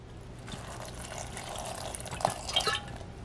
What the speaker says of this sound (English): And now I'm gonna add some water